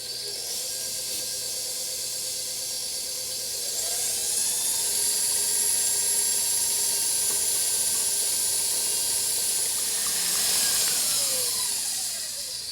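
An electric mixer whirs steadily as eggs are beaten one at a time into filling for a gluten-free lemon rhubarb tart. The motor whine holds close and continuous, rising slightly in the middle.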